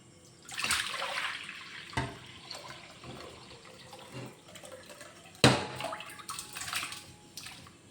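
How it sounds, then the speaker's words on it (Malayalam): Liquid for homemade pineapple wine is poured into a glass bowl, making a soft, uneven splashing and trickling with a few louder sloshes, heard close and without talk. "ഈ ഗ്ലാസ് ബൗലിലേക്ക് നമുക്ക് ഒഴിക്കണം"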